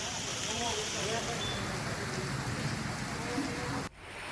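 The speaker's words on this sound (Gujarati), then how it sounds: "ધોધમાર વરસાદ પડ્યો છે" Heavy rain falls over Amreli city in a steady, dense hiss that fills the background evenly, then cuts off abruptly near the end.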